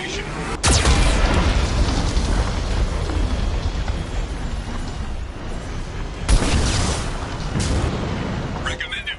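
A Geth cannon fires in the Mass Effect game, heavy booming blasts with a sharp onset, then a long rumbling roar and a second strong hit later on, loud and continuous.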